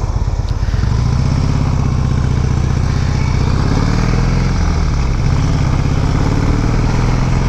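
A Harley-Davidson Dyna Super Glide motorcycle idles nearby at a fuel stop, its V-twin engine throbbing with a loud, steady, low rumble that runs without a break and alone the whole time.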